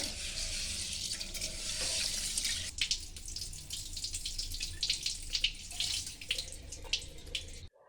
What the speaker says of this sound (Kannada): ಸ್ವಲ್ಪ ನೀರು ಹಾಕ್ಕೊಂಡು ಕ್ಲೀನಾಗಿ ತೊಳ್ಕೊಂಡ್ಬಿಡ್ತೀನಿ